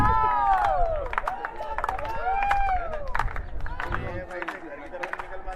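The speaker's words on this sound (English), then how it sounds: "the crowd, which is present in lesser number but quite vocal and quite encouraging" A modest but vocal crowd at a national senior athletics championship cheers and shouts encouragement to runners, with rising whoops, scattered claps and voices blending under a nearby commentator's talk.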